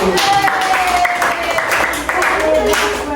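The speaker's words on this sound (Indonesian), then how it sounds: "Oke, beri tepuk tangan untuk kelompok 1." In a classroom, students clap for a student group, a loud, dense burst of clapping mixed with voices and chatter throughout.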